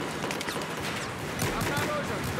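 Rapid bursts of video game gunfire crackle in quick succession, mixed with faint background voices and game noise.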